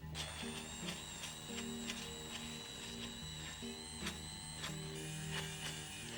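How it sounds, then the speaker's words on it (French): An electric blender whirs steadily, mixing small pieces of cold butter into a lemongrass sauce for scallops, a continuous motor hum with slight shifts in pitch and no pauses, close and moderately loud. "Et on va mixer"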